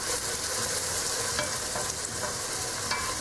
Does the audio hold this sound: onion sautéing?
yes